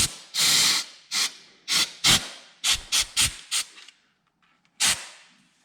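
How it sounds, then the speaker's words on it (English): Compressed air is blown in sharp bursts to clean around a tractor's front differential pinion seal, about nine loud close hisses of varied length, then a pause before one final blast. "Never hurts to take a little bit of compressed air."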